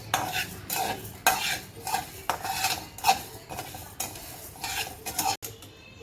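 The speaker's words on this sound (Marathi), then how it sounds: "धने आणि जिरे भाजून घेऊयात, ते पण कोरडेच भाजायचे" Coriander and cumin seeds dry roasting in a pan, stirred briskly with a utensil that scrapes and clinks against the metal in rapid repeated strokes, close and loud, no voices.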